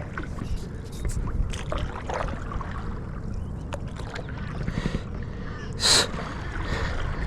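Kayak paddle strokes dipping and splashing in water while passing a crab pot, steady close watery swishes and drips with a brief louder splash near the end, breathing audible over faint wind.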